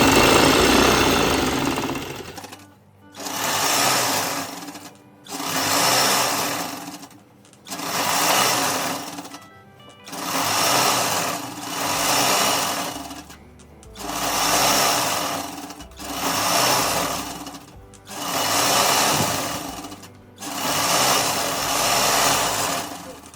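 A sewing machine stitches through a thick godhadi quilt made from old saris, loud rhythmic bursts of fast needle chatter repeating in roughly two-second runs separated by short pauses.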